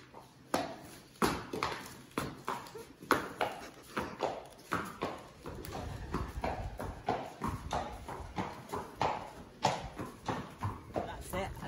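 Hooves of a horse wearing travel boots clip-clop steadily as it is led out along a trail on a loose lead rope, an even walking rhythm heard close, with voices talking over it.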